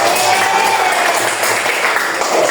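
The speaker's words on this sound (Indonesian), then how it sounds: "Oke, tepuk tangan dulu." Children in a classroom applaud together, a dense, steady patter of clapping lasting the whole moment, fairly loud and close, with faint voices mixed in.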